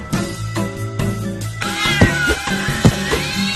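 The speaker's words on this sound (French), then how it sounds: "Les chats de gouttière ont repris le contrôle des rues." Alley cats caterwauling on city streets, a run of long wavering yowls and meows that rise and fall, loud and close, with sharper cries layered over a steady drawn-out wail.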